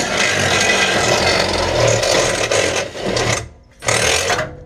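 A loud, steady grinding rasp of a drill runs continuously during a Nissan 350Z rear camber arm install, briefly dropping away near the end before resuming.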